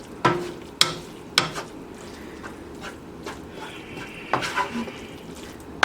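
A spatula folds vegan scrambled eggs in a pan with the heat off, giving a few soft scraping knocks against the pan and faint stirring sounds close by, with no talk.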